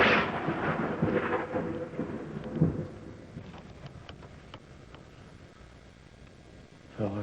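Thunder from a lightning storm over open country where tornadoes struck, a loud rolling rumble with a sharp crack near the start, then fading to a low, distant roll.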